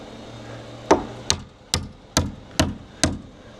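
A hammer tacks a piece in place during a home build with a wide roof overhang: six sharp, evenly spaced blows, close and loud, with no talking.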